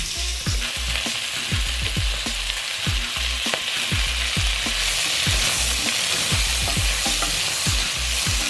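Chili, red pepper and onion fry loudly in a pan, a dense continuous sizzle broken by repeated scraping strokes of a stirring utensil, with no talk.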